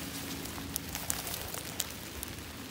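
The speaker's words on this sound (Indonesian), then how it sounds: "Ini hujan deras." Heavy rain patters steadily on surfaces during a mountain descent, a dense hiss with scattered louder drop hits, no voices.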